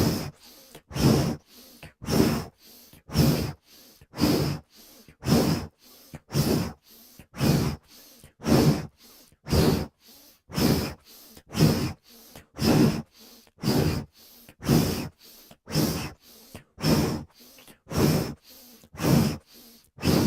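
Slow, steady yoga breathing, close and soft, with long inhales and exhales repeating about every second in an even rhythm, no talking over it.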